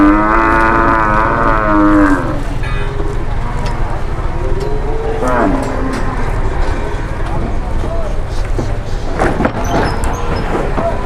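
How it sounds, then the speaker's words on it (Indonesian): Cattle low and call loudly while being unloaded from a transport truck for qurban, with rumbling truck and clattering metal noises and people talking over the commotion. "Kita akan lihat penurunannya sapi-sapi dari Lembu Suro teman-teman"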